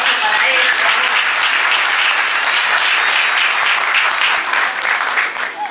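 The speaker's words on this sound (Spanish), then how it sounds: "Así que también un fuerte aplauso para ellos." Sustained, dense applause from an audience at a nursery school inauguration, loud and steady throughout, with a brief dip at the very end.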